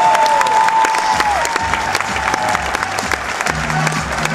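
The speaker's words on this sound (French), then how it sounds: "des applaudissements nourris pour Karim Benzema" A large audience in a French television studio gives sustained, dense applause for the footballer Karim Benzema, steady rapid clapping with a little cheering and a faint voice underneath.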